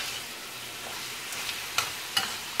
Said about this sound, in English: Stir all of this in here together.